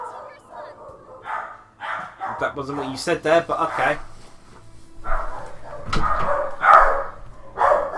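Dogs bark and yip in the kitchen in scattered bursts mixed with whimpers, heard beneath ongoing speech.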